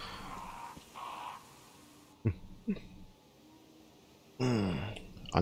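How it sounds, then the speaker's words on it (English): Several harsh crow caws in the video game Resident Evil Remaster break out in separate bursts over a quiet background, some short and some drawn out, the last ones louder and closer. "More crows?"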